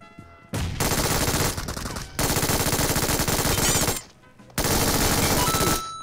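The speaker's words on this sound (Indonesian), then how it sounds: "Tembakan MG3 kita menembus." Bursts of MG3 machine gun fire from the game PUBG Mobile, loud sustained automatic fire in roughly three long volleys with short gaps between them, no talking.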